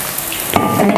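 Chicken leg pieces fry in hot oil with a close, continuous sizzle that swells louder partway through.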